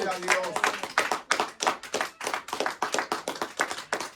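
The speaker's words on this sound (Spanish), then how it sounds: "Denle un aplauso a Cristo" Church congregation claps in a fast, even rhythm, a clear run of about twenty distinct claps close by, steady and lively across the whole stretch.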